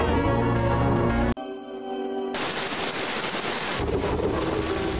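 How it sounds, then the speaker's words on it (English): Rain and thunder sound effect from the visual novel Shadow Glass, a steady hiss of pouring rain with a deep rolling rumble, following a burst of music that cuts off abruptly. "As the rain poured down"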